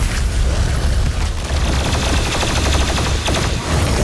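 The BFG 10,000 firing in the video game DOOM Eternal, a loud, unbroken barrage of booming, crackling blasts with rapid pulsing detail, filling the whole stretch without pause.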